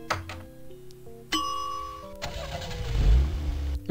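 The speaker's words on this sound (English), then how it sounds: "Why does it sound like a car engine?" A car engine in the adventure game Sam & Max Hit the Road starts up with mechanical clatter and a steady hum, then revs louder toward the end, up close with no talking.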